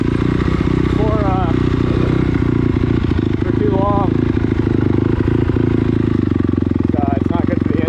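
KLX140 and CRF250R trail motorcycles ride along a dirt trail, their engines a dense, steady drone with rising and falling revs throughout, while a person talks over the riding.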